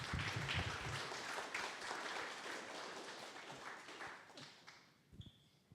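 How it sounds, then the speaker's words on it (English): An audience at a coding meetup applauds a speaker, giving a faint, steady patter of clapping that thins out toward the end, leaving a few scattered claps. "Another round of applause for Clemens"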